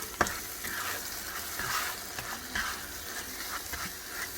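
Eggs scramble in butter and sausage grease in a pan with a soft, steady sizzle, broken by light scraping and stirring clicks and one sharp tap near the start, fairly quiet and close, with no talking.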